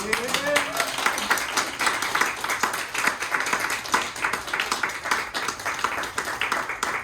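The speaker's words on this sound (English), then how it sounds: "So please, big clap for Swami." An audience at a yoga ashram satsang claps for a visiting swami, steady dense clapping running throughout at moderate level while a voice speaks over it.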